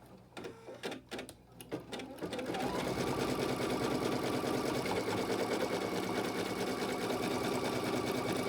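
An embroidery sewing machine stitches the tack-down outline around a clover design. A few handling knocks come first, then a steady, rapid mechanical chatter runs continuously at close range.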